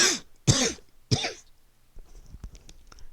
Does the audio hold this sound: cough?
yes